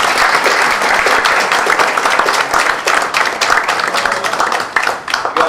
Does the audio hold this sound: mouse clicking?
no